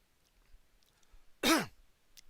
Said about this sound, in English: I just have to clear my throat here instead.